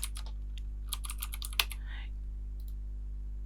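Keys clatter on a computer keyboard in quick, light bursts as a word is typed into a spreadsheet, then go quiet over a steady low electrical hum.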